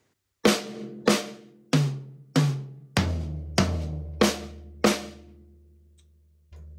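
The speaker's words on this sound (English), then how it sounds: "We're going to take 8th notes around the kit." A drum kit plays a steady run of eighth notes moving around the toms, eight sharp hits that ring out in turn, the last one decaying alone before a soft thump at the end.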